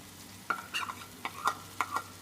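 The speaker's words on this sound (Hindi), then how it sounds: "अब हम इसमें ये अंडे शामिल करेंगे।" Eggs go into a pan with tomatoes and spices for an omelette and are stirred, giving soft repeated scraping strokes over a quiet sizzle. The sound is close but faint, with no speech.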